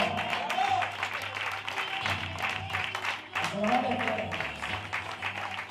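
A crowd applauds at an outdoor carriage driving contest in Olite, Navarra, with moderate clapping running under a voice talking over a public address system and a steady low hum.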